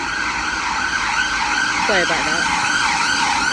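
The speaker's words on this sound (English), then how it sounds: "Ambulance." An ambulance siren wails past a house on a cold, rainy day, a brief rising-and-falling tone under steady outdoor noise while a person speaks briefly.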